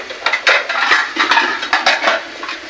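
Metal clinks and clatters near a cooking pot as a small lid is set over it while making bhapa pitha. Several sharp taps and scrapes come in quick succession, close by.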